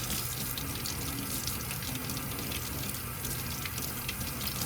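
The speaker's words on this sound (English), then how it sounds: "So I'm just pulling the rest of the soap out, rinsing it off" Tap water running steadily as soap is rinsed out of an oil paint brush, a continuous close gushing stream with no voices.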